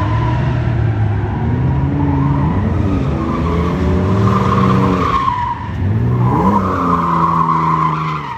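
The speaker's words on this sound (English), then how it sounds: "Do a burnout. Kill the tires." A car doing a burnout at a drifting event, with a continuous loud tire squeal and a revving engine rising and falling for several seconds, close and dominant.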